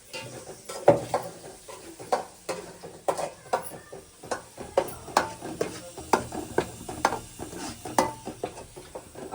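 Mustard seeds and curry leaves in hot oil tempering with raw ground tomato chutney poured in, crackling and sizzling in rapid irregular pops, close and fairly quiet, with no talk.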